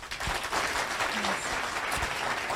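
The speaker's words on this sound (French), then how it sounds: "ça mérite vraiment qu'on l'applaudisse très fort" A crowd claps, steady applause that holds throughout at an even, fairly full level.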